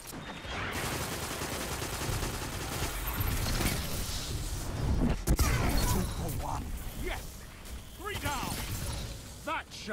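Rapid gunfire from a weapon in the Destiny video game, a dense series of loud, close shots running through the clip amid game effects, with someone talking over it.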